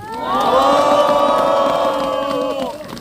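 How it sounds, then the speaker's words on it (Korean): A large outdoor crowd of Marine Corps veterans at a winter press rally cheers and shouts with scattered clapping, a sustained loud roar of many voices lasting about three seconds before fading. "큰 박수 한번 부탁드립니다"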